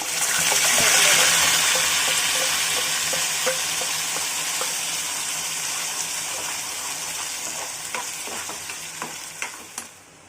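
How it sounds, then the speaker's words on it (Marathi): Chana masala spice paste fries in hot oil in a pan for a kabuli chana masala, a bright, steady sizzle with occasional stirring scrapes and clicks that gradually quiets toward the end; no one talks. "मसाला आपण 3 मिनिटं चांगला फ्राय केलाय तेलामध्ये।"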